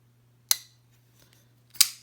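A folding pocket knife's action flicked open and snapped closed, two crisp, sharp metallic clicks about a second apart, close and clear against near silence.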